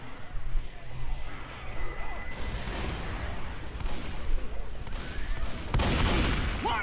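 Gunfire from Left 4 Dead 2 crackles through a chaotic survival-horror firefight, with repeated shots, an auto shotgun among the weapons, and pipe bomb action nearby; bursts pile up loudly over constant background commotion and occasional voices.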